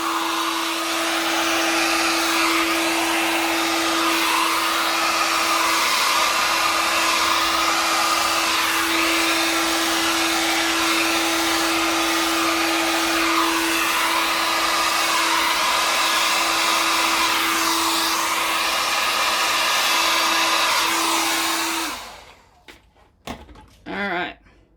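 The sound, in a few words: blowtorch flaming over a Dutch pour paint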